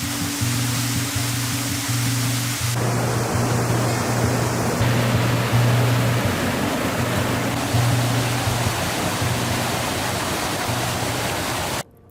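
Waterfall on the East Fork of the San Gabriel River along the Bridge to Nowhere hike, its roar a loud, constant broadband rush that stays unbroken from start to finish.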